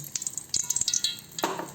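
Oil sizzling in a pan for a South Indian tempering, with cumin, pepper, garlic and dried red chillies nearby; brief crackling bursts and light stirring clicks sound close and fairly quiet, with no talking.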